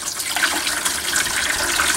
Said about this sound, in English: I have a little bit of water here, a little over a gallon, so we'll just fill this up a little bit.